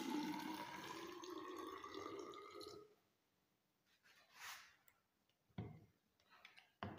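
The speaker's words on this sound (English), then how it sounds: "we are going to pour water in this and weigh it back here" Water poured into a measuring cylinder in a density experiment, a steady trickling pour that stops after about three seconds, followed by faint clinks and handling noises.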